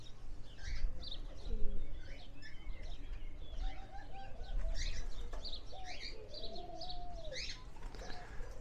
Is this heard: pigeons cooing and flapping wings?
yes